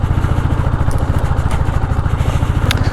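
A Royal Enfield Classic 350 (2021 model) carrying a pillion rider chugs along an off-road trail in Nepal, its single-cylinder engine thumping in a steady, loud, close rhythm with some clatter.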